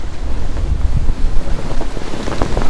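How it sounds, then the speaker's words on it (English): Waves slosh and wind buffets a sailboat on a rough passage to St Croix, reefed down in the lee of an island: loud, close, gusty wind roar over irregular splashing surf, with no talk. "So the waves are calming down tremendously"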